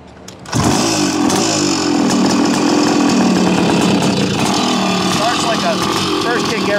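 A Montesa VR360 motorcycle with a 414cc big bore engine catches on the first kick and settles into a loud, rapid, ragged idle. It stays close and steady, with some rev fluctuation throughout.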